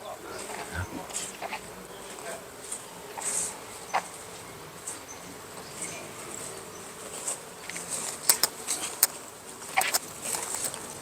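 A flying insect, likely a bee or fly, buzzes faintly around an outdoor temple pavilion in Thailand, its hum steady under light ambient noise with a few sharp clicks and taps.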